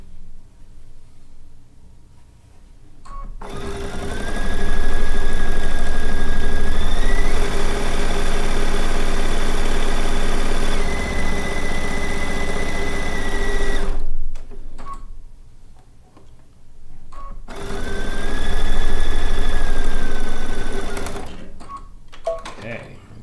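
Sewing machine stitching over a fabric strip, two long bursts of loud rapid motor whir with a pause and quieter handling between, a voice talking in the gaps.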